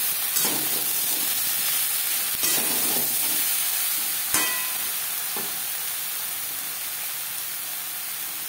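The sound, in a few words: ridge gourd and potato stirred with turmeric and salt in a pan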